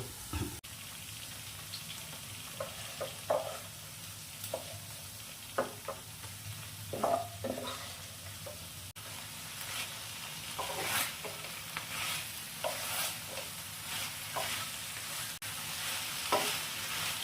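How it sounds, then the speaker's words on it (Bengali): Baby corn pieces getting a second deep fry to crisp them for chilli baby corn, the hot oil giving a steady, close sizzle and bubbling with occasional sharper crackles and stirring clatters throughout. "বেবিকর্নগুলো আগে থেকে ভেজে রেখেছিলাম সেইগুলো ক্রিস্পি হওয়ার জন্য আরও একবার সেকেন্ড টাইম আমি ভেজে নিচ্ছি"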